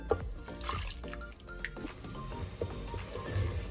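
Water is poured into a cooking pot of baby porridge (jaulo) mid-cooking, giving a soft, close trickle and dribble amid light kitchen clatter, with no talking.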